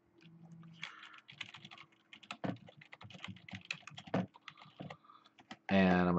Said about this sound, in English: I can type something in here